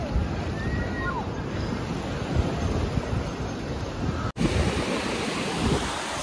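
Ocean waves at Puri beach wash and roar continuously close by, mixed with heavy wind buffeting the microphone, with a brief dropout near the end.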